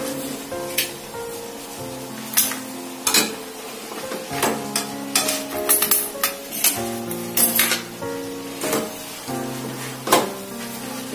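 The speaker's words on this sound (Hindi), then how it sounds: "एक और स्पून की सहायता से, किसी की सहायता से आप इसको अच्छे से मिक्स कर ले।" Spoon stirring veg chowmein in a metal pan, with repeated sharp scraping clinks and taps in an irregular rhythm over a faint sizzle, close and fairly loud.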